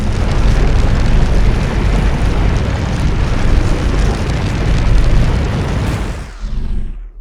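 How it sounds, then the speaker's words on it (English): A distant asteroid explodes in a space shooter game built with Unreal Engine and Wwise, a loud, wide, bass-heavy roaring rumble sustained for several seconds before trailing off. "We hit something that's very far away, so it's the bass sound. And there it blew up."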